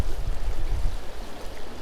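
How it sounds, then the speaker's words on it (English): Valley Creek, a freshwater stream at Valley Forge, flows steadily with a continuous low, broad rushing wash of water heard up close, no voices present. "we have the Valley Creek, which was the main source of fresh water for the Valley Forge encampment"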